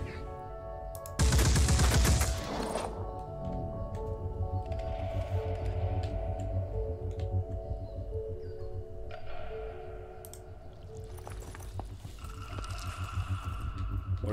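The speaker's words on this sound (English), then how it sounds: "the turret is now warming up" Turret gunfire in the Phoenix Point strategy game: a loud dense burst of shots near the start, then a sustained mechanical drone and whirring with tonal hums for the rest.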